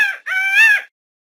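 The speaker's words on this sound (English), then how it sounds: "Peacock." A peacock gives one loud, close, nasal call in two parts, a short opening note and then a longer wailing one, followed by silence.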